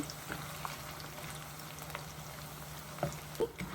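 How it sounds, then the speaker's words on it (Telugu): Raw plantain spice mix roasting in a pan gives a soft, steady sizzle with faint scattered crackles and a couple of light scrapes near the end, quiet and without voices. "ఇలాగా బాగా ఇలా కలర్ వచ్చే వరకు వేయించుకోవాలి"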